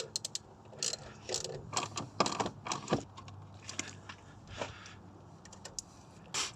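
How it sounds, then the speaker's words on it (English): Socket wrench loosening bolts on a Mazda MX5 Miata while swapping the auxiliary drive belts, a close series of quick ratcheting clicks and metallic rattles in uneven bursts, with faint low hum underneath. "then you're going to need a 10mm socket"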